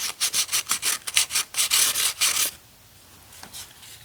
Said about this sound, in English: I'll just hit it with some emery cloth and we'll hope for the best